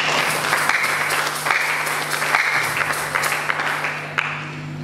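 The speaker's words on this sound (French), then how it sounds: "Est-ce qu'on peut acclamer pour ça?" Crowd applause at a women's vow-exchange gathering, dense steady clapping for nearly five seconds with faint cheering mixed in and no voices over it.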